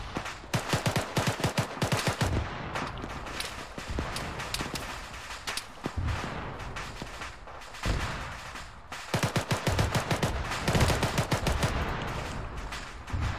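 Rapid automatic gunfire bursts from emptying a magazine in the military shooter game ARMA 3, loud repeated volleys with brief pauses between strings, some single shots and faint distant fire filling the gaps.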